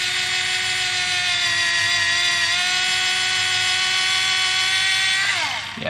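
An electric drill at low RPM bores holes in a plastic model part for photo-etched metal accents, giving a loud, steady whine that holds for several seconds and then winds down at the end.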